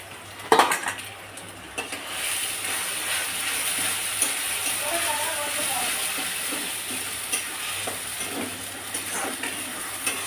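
Spice paste goes into a hot pan with a clatter of utensil against metal, then a steady sizzle and frying hiss continues with occasional stirring knocks.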